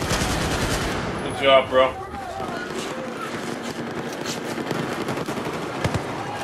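Rapid automatic gunfire in Battlefield 4, bursts of shots over a busy game soundscape while a player talks over it.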